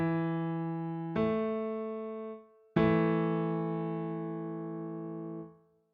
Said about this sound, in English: the interval of a fourth has a ratio of 4-to-3 and sounds like this